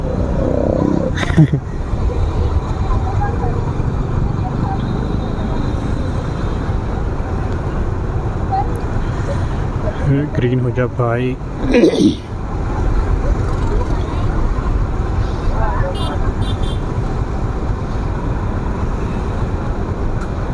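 Steady road noise and engine hum from a KTM Duke 390 motorcycle riding through Hyderabad evening traffic, with a passing vehicle swelling midway and someone speaking briefly.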